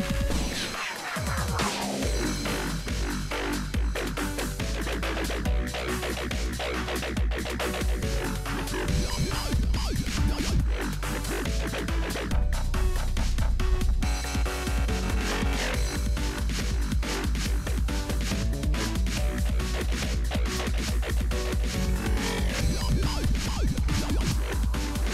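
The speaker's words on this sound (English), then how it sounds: "if you didn't know what the drop sounds like, it sounds like this" An electronic music drop from a track bursts in after a short sweeping lead-in, then pounds on with dense, loud, continuous synths and heavy low bass for about twenty-five seconds, with no voices.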